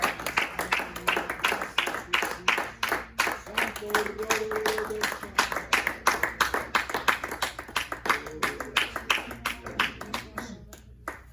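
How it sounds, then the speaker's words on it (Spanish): A church congregation claps in praise to the Lord, sharp rhythmic hand claps repeating steadily and close, with singing and voices running underneath before the clapping thins out at the end. "Dale un fuerte aplauso al Señor, hermanos"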